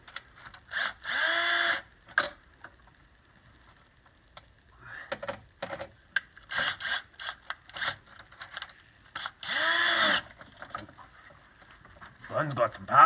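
An impact gun tightens bolts in short bursts, a buzzing rattling whir that starts and stops several times up close, with quieter clanks and shuffling between bursts.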